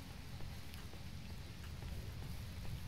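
Steady rain falls across an irradiated zone in the game S.T.A.L.K.E.R.: Shadow of Chernobyl, a faint, even hiss of droplets with a low rumbling bed beneath and no voices.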